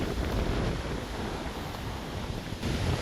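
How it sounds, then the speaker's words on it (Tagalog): Strong wind in the UK roars steadily across the microphone, a dense, gusty rumble with no voices, surging louder near the end. "Ang lakas ng hangin ngayon."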